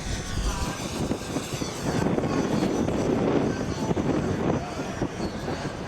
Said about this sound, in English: The first helicopter and the current one are being flown by Jeff from Align.